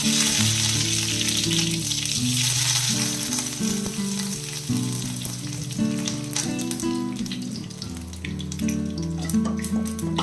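Curry leaves, dried red chilli and urad dal frying in hot oil for a cucumber thoran, a dense, steady sizzle layered with loud tonal music throughout.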